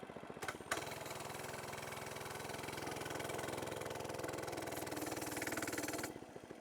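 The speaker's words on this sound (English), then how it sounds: "It is 5 horsepower, 105 cc 4-stroke." A 5-horsepower, 105 cc four-stroke engine runs at a steady, even drone with a low rumble, faint and unbroken for several seconds.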